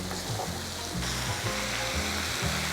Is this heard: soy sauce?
yes